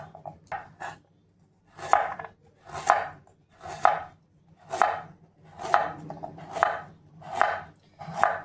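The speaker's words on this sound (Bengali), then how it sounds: "তো চলো গাজরটা এভাবে একটু বড় বড় করে কেটে নেব।" A knife chops carrots into large pieces on a board, about a dozen crisp, evenly spaced strokes in a slow steady rhythm, close and clear with no talking.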